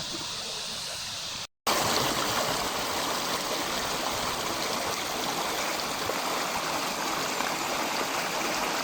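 A river stream flows near Sampaloc Falls in Siniloan, Laguna, a steady, full rushing of water close by that continues unbroken apart from one brief cut near the start.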